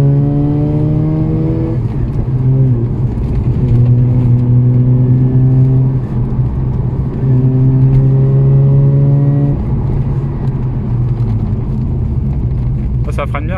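A Mazda RX-8 rated at 240 hp accelerates hard, heard from the passenger seat as a loud engine note rising through the gears, with brief dips at each shift.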